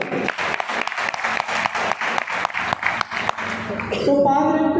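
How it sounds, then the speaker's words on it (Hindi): Audience applause for Sukhbir ji at a token meeting in Bharatpur, Rajasthan, a crowd clapping steadily with some distinct sharp claps, followed by a tonal, music-like sound at the end. "एक बार सुखबीर जी के लिए जबरदस्त ताली हो जाएगी।"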